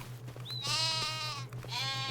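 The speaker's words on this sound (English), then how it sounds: "our black Welsh mountain sheep" Black Welsh Mountain sheep bleating on a farm, two long wavering bleats in a row, fairly close and clear over a low steady hum.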